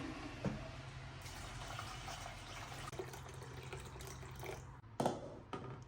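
Hot water from a kettle poured over a mix of moong, masoor and arhar lentils, a steady splashing fill with a few sharper clinks near the end, close and alone without talk.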